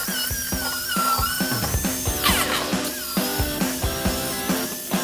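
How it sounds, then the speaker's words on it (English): Worn 60-80 grit flap wheel on a grinder removing surface rust from the steel seat frame of a 1969-72 Chevy/GMC truck, a loud continuous whine with shifting pitch and repeated rhythmic grinding bites. "It's old and worn out, but this is what I'm gonna use to go ahead and clean it all up."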